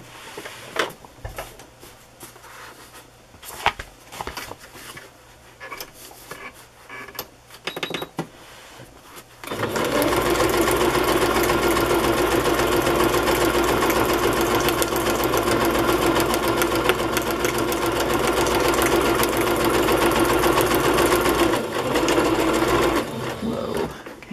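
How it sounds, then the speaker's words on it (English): A sewing machine stitching a zigzag on fabric for a handkerchief cover: soft handling clicks and taps first, then a loud, close, steady mechanical whir running for about fourteen seconds before stopping. "I'm going to sew this here with a zigzag stitch."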